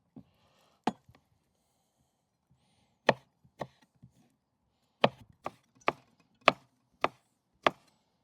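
A knife chops orange peel into thin strips on a board, sharp close knocks that come sparse at first, then in a fairly regular run of about six cuts, with no talking.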